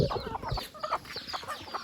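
Several hens kept in a backyard coop cluck in short, irregular bursts over about two seconds, fairly close and moderately loud, with no talking.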